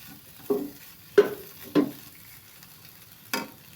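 Tomato and chili powder frying in a pan for vegetable biryani masala, four separate sharp sizzling bursts as the mixture is stirred, each fading quickly, with quiet gaps between and no talking.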